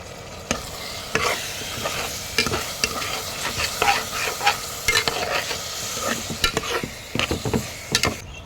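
Tomatoes sizzle and spit in a hot pan while a utensil stirs, with irregular scraping clicks over a steady frying hiss; no one speaks.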